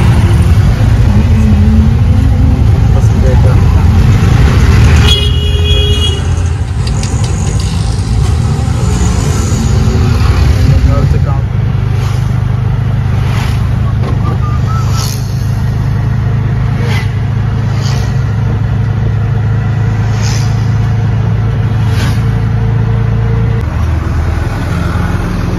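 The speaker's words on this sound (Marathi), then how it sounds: "गाड्या थांबलेल्या आहेत सिग्नलला।" Road traffic halted at a signal at a busy junction, heard from an auto-rickshaw: nearby engines idle and rumble steadily, with a vehicle revving early on and faint horn-like tones later.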